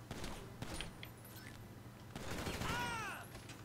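Gunfire in GTA 5 during a Gunrunning rail gun mission crackles in scattered shots and short bursts, fairly quiet, mixed with other game effects and faint talk.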